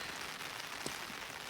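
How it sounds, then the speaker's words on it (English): Steady rain falling in Arizona after a night of constant downpour, a faint, even hiss with one brief drip or tap, no voices. "It started raining last night and it has not stopped."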